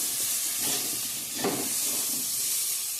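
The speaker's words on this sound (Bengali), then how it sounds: "কাঁচা কলা সবজিটা ভালো করে কষানো হয়ে গেছে মশলার সঙ্গে" Raw banana curry with spices sizzles and hisses steadily in a pan, with a brief scrape of stirring partway through, quiet and close.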